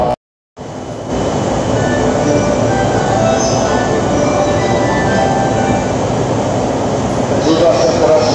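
A commuter train on the conventional lines at Tokyo Station at night, loud and close, rumbling steadily with rail noise and faint wheel squeal throughout, following a brief silent gap at the start.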